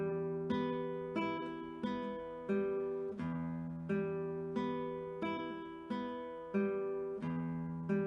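Acoustic guitar fingerpicked in a steady repeating thumb, index, middle, ring pattern, each bass-led arpeggio plucked cleanly and evenly at a moderate tempo, close and quiet.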